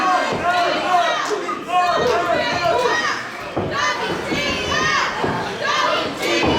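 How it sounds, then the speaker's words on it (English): A dense, loud crowd at a Ryse wrestling tag team championship match chants and shouts in rhythmic bursts, with voices layered throughout and no pause. "This crowd chanting WTF"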